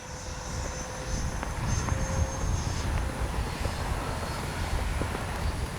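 An FMS 80mm Rafale RC jet flies in strong wind, its steady whining ducted-fan drone carried under loud, rumbling wind buffeting across the whole stretch, with no talking.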